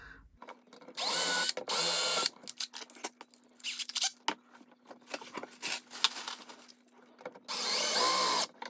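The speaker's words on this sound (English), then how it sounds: "using 2 holes per each and pre-drilling them" A power drill pre-drilling screw holes in angled brackets for a headboard base plate whirs in three short, high-pitched bursts, separated by quieter clicks, creaks and handling noises nearby.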